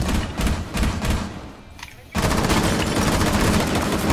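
Rapid gunfire in the tactical shooter Rainbow Six Siege, dense bursts of loud automatic shots that pause briefly and then resume as a sustained barrage.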